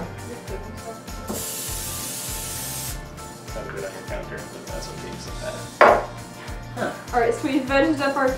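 Cooking spray hissing from a can into a brownie pan, one sustained spray burst, followed by clinking kitchenware and voices talking nearby.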